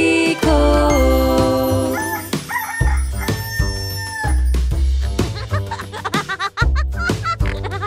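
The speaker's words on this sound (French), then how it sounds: "J'écoutais le coq faire cocorico." A rooster's cock-a-doodle-doo crow rings out amid a bright, busy children's animal song in French, with loud music and harmonic tones running throughout.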